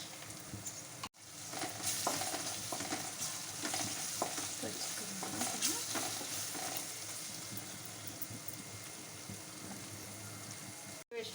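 Turmeric and spices fry in oil with ginger paste, a continuous close sizzle with scraping stir strokes throughout, briefly cutting out near the start and again near the end.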